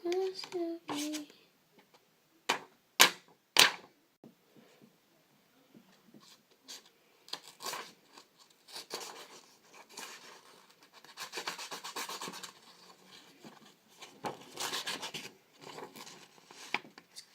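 Hand sawing and rasping of a small piece of wood while carving a mini wooden knife, irregular scraping strokes in short bursts and longer runs, close and fairly quiet, with a voice briefly at the start.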